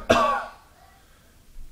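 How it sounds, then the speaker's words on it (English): A single harsh cough or throat-clearing burst from one person, loud and close at the start, then quickly fading into a quiet room with no talk. "I've been coughing like that for 3 weeks."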